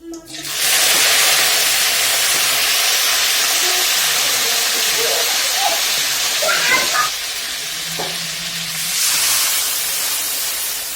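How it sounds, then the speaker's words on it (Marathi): Water poured into a hot cumin and coriander tempering in a pan, bursting into a loud, close hiss of steam and sizzle that holds steady, dips briefly, then swells again, with no talking. "आता फोडणी पाणी पण टाकलेलं आहे"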